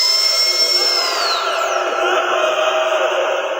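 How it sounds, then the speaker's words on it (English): Echoey spinning dentist drills in the Verruckt map of Call of Duty Zombies whine loudly at a high pitch, the tone sliding downward, over a steady mechanical hum. "a bloody dentist chair that plays echoey memories of drills spinning and patients screaming"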